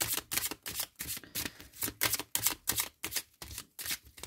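A deck of oracle cards being shuffled by hand, a rapid series of crisp riffling bursts with brief pauses between them, close and fairly quiet with no talking.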